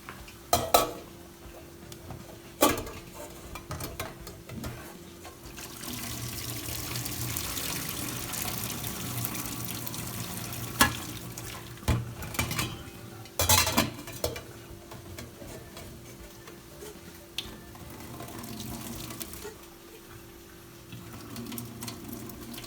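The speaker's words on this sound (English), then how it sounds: "So I'm gonna just drain this off quickly." Cooked spinach is drained into a kitchen sink, with water pouring and rushing steadily for most of the stretch and occasional sharp clanks of a pot or dishes. No one talks.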